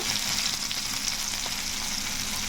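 River fish frying in hot oil gives a loud, dense, continuous sizzle and crackle that stays even from start to finish, with nothing else heard.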